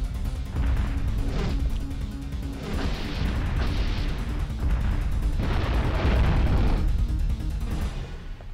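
Dino Crisis 2 combat: dense, continuous bursts of gunfire and explosive booms, loud and sustained throughout with heavy low rumble and repeated blasts, no voices.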